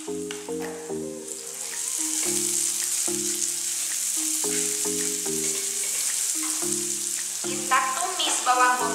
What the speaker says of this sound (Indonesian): Kita tumis bawang bombay sampai harum